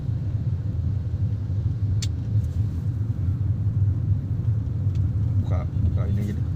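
A steady, loud low rumble fills a car's cabin as it drives, continuous throughout, with a few faint high chirps and a murmur of voices over it.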